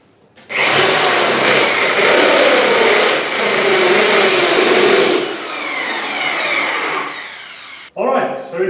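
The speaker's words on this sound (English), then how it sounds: "using a 51mm hole saw, I can cut all the holes for the speaker terminals" A 51mm hole saw whines loudly and continuously as it bites through wood, cutting speaker terminal holes, a steady grinding roar for several seconds that eases off before a brief stop.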